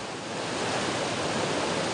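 The Barada river rushes through a mountain area near the Lebanese border, a steady, dense broadband roar of flowing water heard close and alone.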